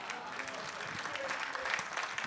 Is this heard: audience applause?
yes